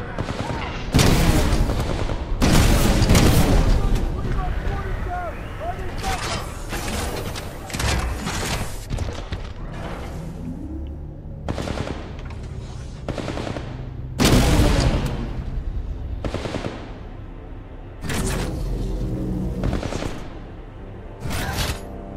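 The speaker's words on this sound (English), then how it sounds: "Who's shooting at me?" Repeated bursts of gunfire in the video game Titanfall 2, loud broadband volleys arriving in clustered waves with short gaps, mixed with booming impacts and game effects.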